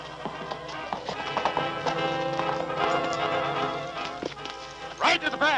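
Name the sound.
horses galloping, riders on horseback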